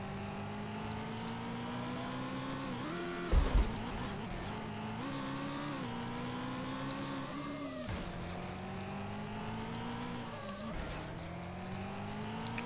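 Race car engine screaming at top speed in Need for Speed III: Hot Pursuit, a steady high-pitched drone with slight pitch wobbles and a brief bump of impact noise, continuous and close.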